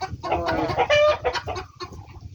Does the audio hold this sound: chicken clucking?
yes